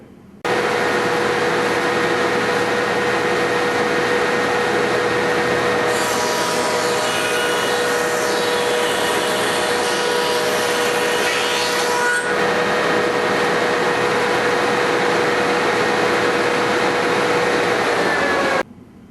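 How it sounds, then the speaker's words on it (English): A wood planer machine running loud and steady with its motor hum, while a board feeds through between about six and twelve seconds and adds a harsher cutting roar before the machine drones on alone. "After you put it through, walk around and catch the wood off of the back of the planer."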